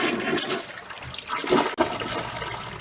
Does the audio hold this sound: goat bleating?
no